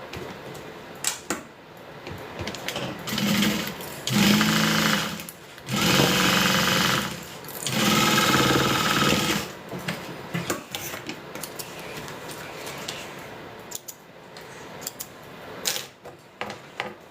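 A sewing machine sews and top-stitches a custom order in several loud bursts of rapid stitching, with quieter handling and pauses between runs.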